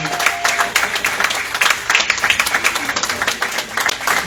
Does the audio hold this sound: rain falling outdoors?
no